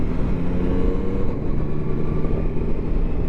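Yamaha Tracer 9 GT motorcycle engine drones steadily while riding on a scenic tour in France, a constant low rumble with wind noise and no voices.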